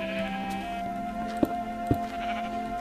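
Sheep bleat in Minecraft, a steady tonal bleating with two short sharp clicks partway through, moderately loud and close, with no talking.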